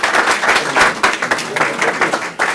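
Applause during a city council meeting, close and loud, with a crowd of hands clapping in an uneven, choppy rhythm for a couple of seconds.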